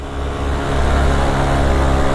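A Gixxer motorcycle engine drones loudly and steadily, rising slightly as it revs under load climbing uphill, close by and continuous throughout.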